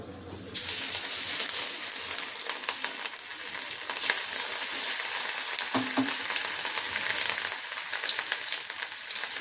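Cauliflower 65 pieces deep fry in hot oil, giving a dense, loud, bubbling sizzle that rises sharply as they go in and then holds steady, with a faint clink partway through.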